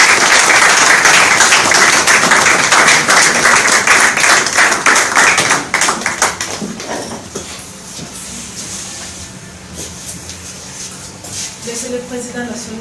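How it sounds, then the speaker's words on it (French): An audience at a women's-month closing event of the Les Transformateurs party applauds the party's national president. The dense applause is loud at first, then thins to scattered claps and shuffling with speech in the background. "Sous vos applaudissements"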